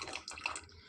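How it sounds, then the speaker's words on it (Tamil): Tamarind water pours into a cooking pot of greens and home-ground masala in a home kitchen, a brief splashing liquid pour heard close and alone for about a second. "புளித்தண்ணியை சேர்த்துக்கணும்."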